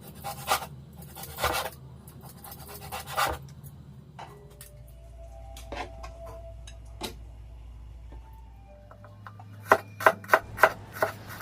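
A knife chops pork belly into bite-size pieces on a cutting board in scattered thuds, then a quick run of sharper, evenly spaced chops near the end.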